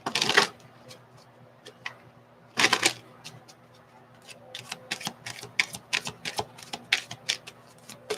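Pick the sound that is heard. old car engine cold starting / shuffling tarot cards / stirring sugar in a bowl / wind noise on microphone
shuffling tarot cards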